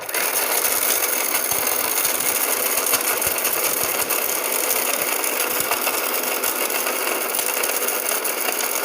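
A Kiam juicer mixer grinder runs at its first speed, giving a steady dense motor whine with a grinding rattle. It is close and constant throughout, and there is no talking.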